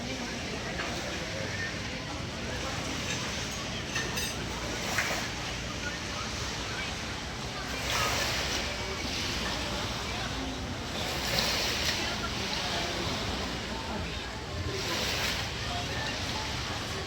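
Ocean waves at high tide on Playa Lolita beach in Calatagan, Batangas, a steady roar of surf with periodic swells breaking, mixed with wind buffeting and a voice speaking over it.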